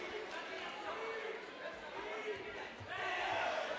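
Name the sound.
crowd reacting to strikes at a fight event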